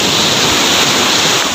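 Strong sea waves crash and roar close by on a shore, a loud, dense, unbroken rush of surf lasting about a second and a half.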